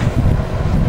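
A Vornado PVH whole room heater runs on its low setting, giving a steady, close, broadband fan whoosh with a low rumble and no pauses.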